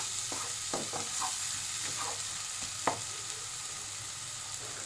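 Masala for mutton ball curry being sautéed in oil in a pan, a soft steady sizzle with scattered scraping stir strokes of a spatula, close and fairly quiet.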